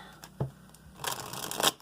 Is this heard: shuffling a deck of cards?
yes